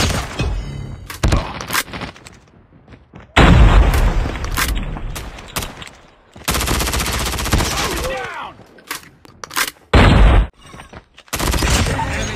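Loud explosions and heavy bursts of automatic gunfire in a Call of Duty match, including deep booming blasts that fit a grenade detonation, arriving in separate punchy bursts with short gaps between them.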